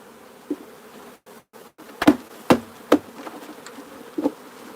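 Honeybees shaken out of a nuc box buzz in a low, agitated hum, broken by several sharp knocks of wood against wood as the box is struck and emptied, close by and without talk.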